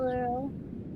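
Single short cat meow, fairly close and faint, fading quickly into background noise.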